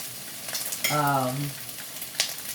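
Onions, broccoli and red and yellow peppers fry in sunflower oil for a yakisoba stir fry, a soft steady sizzle with a brief scrape and a short tonal squeak, fairly quiet and close.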